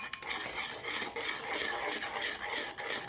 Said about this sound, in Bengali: হ্যান্ডউইচের সাহায্যে ভালোভাবে শুকনো উপকরণগুলো মিশিয়ে নিব